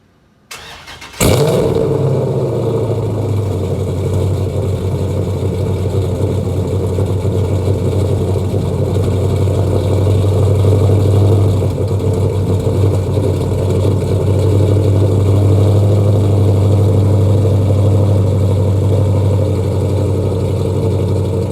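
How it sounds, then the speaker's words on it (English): A 392-swapped Dodge R/T engine cold-starts after a brief crank, then settles into a loud, steady, rumbling idle that holds close and unbroken for about twenty seconds. "it's only right that I actually give you guys one more cold start"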